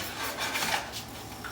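A short burst of pepper being ground over simmering eggs, a dry rasping crunch of a grinder turning a few times, close and fairly quiet.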